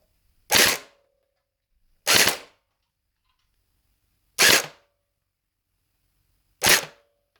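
A stock out-of-the-box Scar gel blaster fires gel balls through a chronograph, four sharp, loud single shots spaced a couple of seconds apart with silence between them.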